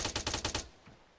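Automatic gunfire in the military shooter ArmA 3 near a gas station, a rapid burst of about five loud close shots in steady rhythm, then cutting off into a fading echoing tail.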